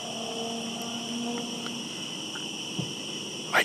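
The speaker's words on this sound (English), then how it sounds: "It's eerily quiet, with only the sound of crickets breaking the silence." Crickets chirp steadily in a dark forest at night, a continuous high trilling that fills the quiet woods, with a faint thump near the end.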